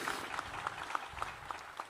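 Audience applause at a Kenyan military ceremony attended by the president, steady and fairly faint, with a few sharper claps and a faint repeating tone throughout.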